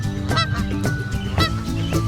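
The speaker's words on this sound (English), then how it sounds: "And here we have a goose," A goose gives several loud, close honks in quick succession, each a short nasal blast, with brief gaps between them and nothing else heard.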